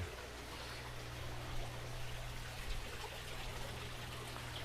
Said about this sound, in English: And now, getting some water in this 800.